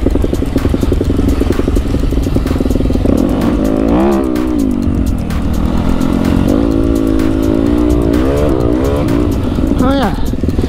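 A 2018 Yamaha WR250F dirt bike engine drones loud and close throughout a trail ride, its pitch climbing and dropping as the throttle is worked, with a sharp high rev near the end.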